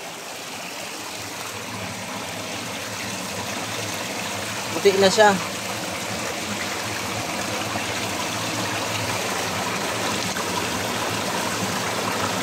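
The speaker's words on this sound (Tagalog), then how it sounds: "Kumakatas guys yung tubig, parang yelo." Water seeping and trickling inside a cave, a steady soft wash of flowing water running throughout, with a person speaking briefly midway.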